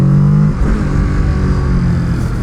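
Kawasaki Z650 motorcycle engine revs hard during small wheelies, a loud close throaty roar that drops back after the first half-second and settles into a steady lower drone.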